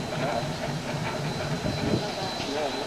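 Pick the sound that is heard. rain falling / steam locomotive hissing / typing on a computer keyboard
steam locomotive hissing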